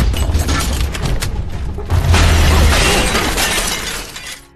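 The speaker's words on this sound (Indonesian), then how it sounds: "Wan yang tidak terima lalu mendorong meja ke arah Ip Man yang kemudian dibalas oleh Ip Man sampai membuat meja kaca itu pecah" Glass table smashing during a kung fu fight scene: a loud crash with a burst of shattering debris, heavy low impacts and dense crackling fragments that sustain before fading out.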